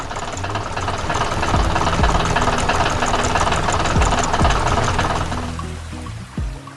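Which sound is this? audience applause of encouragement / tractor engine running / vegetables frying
tractor engine running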